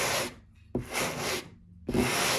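Walnut wood pieces for a dice box are rubbed against sandpaper in three distinct back-and-forth strokes, each a close, coarse abrasive swish separated by short pauses.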